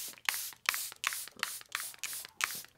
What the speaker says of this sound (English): I've got this Charlotte Tilbury Hydrating Mist